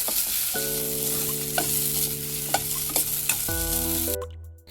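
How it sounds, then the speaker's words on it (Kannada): Pressed rice vermicelli is stirred into a sizzling tempering in a pan, producing continuous close frying crackle and spoon scrapes over a steady tonal hum. The sound cuts off abruptly at the end. "ಈಗ ಎಲ್ಲ ನೀಟಾಗಿ ಮಿಕ್ಸ್ ಮಾಡೋಣ ಒಗ್ಗರಣೆಗೆ."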